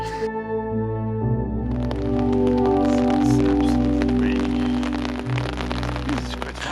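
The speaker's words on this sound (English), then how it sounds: "And then it started to rain a lot." Heavy rain falling outdoors, a thick continuous patter that builds in after a few seconds over a sustained tonal hum and music-like background, loud and close by the end.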